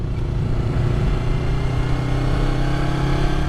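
A Yamaha R3 motorcycle engine runs steadily during a gear change, a continuous mid-pitched drone with slight shifts in pitch, heard up close without talk.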